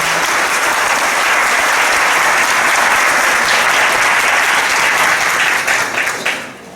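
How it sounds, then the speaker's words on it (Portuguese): Applause fills a church congregation during a Catholic service, a dense, sustained wash of many hands clapping at full strength before tapering off at the end, with no voices over it. "Aplaudamos a palavra do Senhor."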